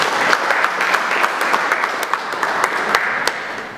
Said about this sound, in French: Est-ce qu'on peut acclamer pour cette initiative?